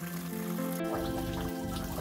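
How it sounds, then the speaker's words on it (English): Water rushing through a pipe once an isolation valve is opened on a jungle water intake system, a steady continuous flow and trickle heard close up with no talking. "So next step is to open up the isolation valve and let the water flow."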